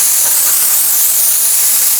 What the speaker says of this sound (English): But yeah, that's a lot of steam.